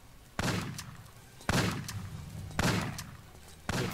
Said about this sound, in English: get out the shotgun, and just keep backing up and shooting.